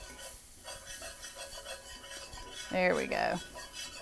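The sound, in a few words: whisking flour into butter and grease for a roux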